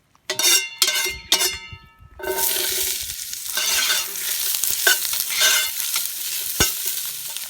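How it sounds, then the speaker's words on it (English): Onions and garlic hit hot cooking oil in a camp oven with a burst of sizzle. A few sharp metallic clanks come first, then a loud, continuous frying hiss with scraping and stirring over it. "In here we've got some onions and some garlic, so that'll be going in."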